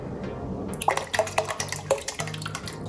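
Broth poured from a carton into a soup pot for Moroccan harira, a close, gentle liquid splashing with bubbly drips and light clinks of the pot, no speech.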